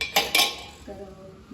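Brass and steel pots and a tea strainer clink together in two quick, bright metallic knocks close by, followed by a faint ringing decay.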